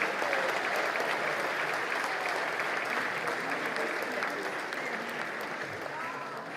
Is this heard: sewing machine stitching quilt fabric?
no